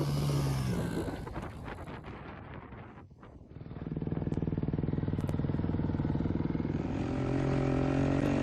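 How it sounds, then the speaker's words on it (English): A Kawasaki KX250 dirt bike engine revs and bogs close by while following a Honda CRF125F on uneven terrain, dropping briefly before climbing back to a steady buzzing rattle as it rides on. "a lot of the engine noise you'll be hearing throughout the video is noise from my bike"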